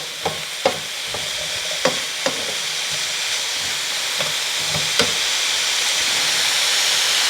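Polish sausage frying in avocado oil in a pan, a loud continuous close sizzle with occasional sharp pops and spatula taps scattered through it.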